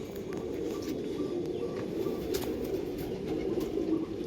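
Low, soft cooing of pigeons, several overlapping rolling coos in a steady murmur, close by with little else around.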